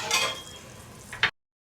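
Tomatoes sizzling and frying in hot oil in a pan for chicken biryani, a loud steady sizzle that fades slightly before a brief sharp burst of stirring, then cuts off.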